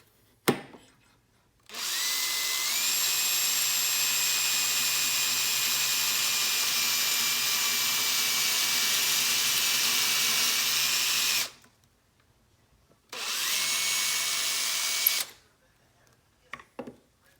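A power drill whines loudly and steadily for about ten seconds, stops briefly, then runs again for a couple more seconds, boring a pocket hole into wood.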